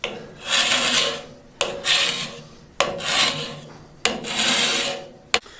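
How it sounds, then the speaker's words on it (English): Four long, rough scraping strokes of a metal scraper rasp paint off a cast iron top in a steady rhythm, each ending with a short knock, close and fairly loud. "I thought I'd try this scraper thingy, and it works great"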